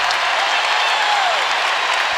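A packed arena crowd at a Florida versus Kentucky college basketball game roars and applauds loudly and continuously after a 6-0 Wildcats run, a dense wall of cheering with no let-up.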